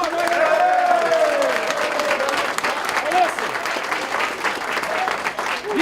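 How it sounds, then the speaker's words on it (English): An Arizona Wildcats football team celebrates a Pac-12 South championship with loud, continuous clapping and whooping close by, voices shouting over the dense applause the whole way through. "Give yourself a round of applause right"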